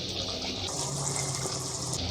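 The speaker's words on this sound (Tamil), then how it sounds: "இப்போ நம்ம குழம்புக்கு தேவையான அளவு தண்ணி ஆட் பண்ணிடலாம்" Water pours steadily into a simmering mutton kola urundai kuzhambu curry, a continuous close gushing splash lasting a couple of seconds.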